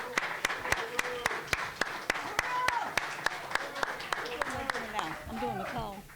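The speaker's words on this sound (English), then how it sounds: "let's have a round of applause for FOFEED" Convention audience gives a round of applause, with steady, evenly spaced claps ringing out clearly while other voices talk and call out underneath, moderately near.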